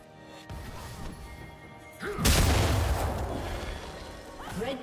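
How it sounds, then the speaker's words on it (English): A League of Legends turret is destroyed: a sharp crash bursts in loudly after a quieter stretch of game sounds, then a rumbling, crumbling tail that fades slowly. "Red Team's turret has been destroyed."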